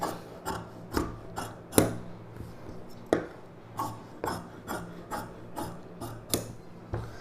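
Scissors snip through blouse fabric in a series of about a dozen crisp, close cuts at an uneven, roughly regular pace, with quiet rustling between them and no talking.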